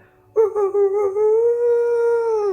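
A human voice imitates a dog howling at night near a house, a rising wavering tonal yowl that starts abruptly after a brief pause and holds as one sustained, fairly loud cry.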